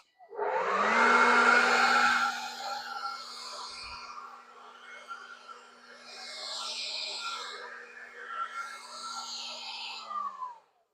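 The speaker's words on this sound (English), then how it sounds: "I'm going to run them both on high just so we can get a nice look at them" Cordless electric 650 CFM leaf blower with 5.2Ah batteries running on high and blasting gravel: a loud rushing whoosh with a steady whine, surging and easing as it sweeps, then cutting off at the end.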